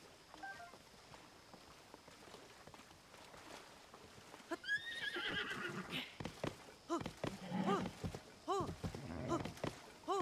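A large horse in Zelda: Tears of the Kingdom whinnies and snorts up close, with clip-clopping hooves and bright game chimes over a quiet ambient bed.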